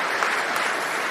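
Conference crowd at a Bitcoin event clapping, a dense continuous burst of applause filling the space.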